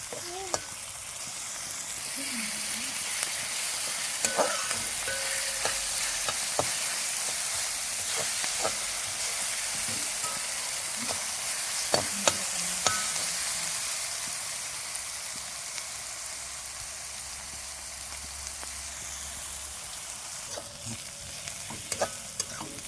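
Onion and green chili being sautéed in a pan, then tomato, for a Kerala-style spicy chicken perattu: a constant hissing sizzle with occasional clinks and stirring scrapes, fairly close, without speech.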